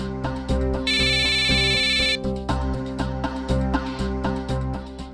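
A bright electronic phone ringtone trills for about a second over loud rhythmic background music with steady beats.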